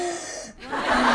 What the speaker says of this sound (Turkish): Derin nefes alın.